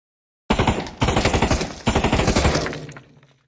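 Assault rifle fire in a VR first-person shooter game: three loud, rapid automatic bursts one after another, the last trailing off with a short echo, with no talking.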